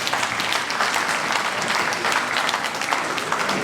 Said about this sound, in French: Je demanderai à notre Burundi d'acclamer.